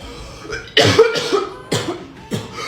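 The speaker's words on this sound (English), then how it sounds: "I can't stop coughing." Several harsh coughs in a row, loud and close, with short pauses between the bursts and no talking.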